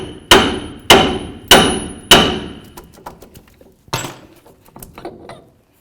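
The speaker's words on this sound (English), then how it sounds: "Use your little hammer and break this free from the knuckle." A small hammer knocks a wheel bearing loose from the steering knuckle of a 1988-2002 GMC Sierra 1500 truck: four sharp, ringing metal blows at a steady pace, then lighter taps and one more firm hit.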